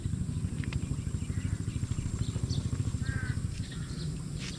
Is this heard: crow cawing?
yes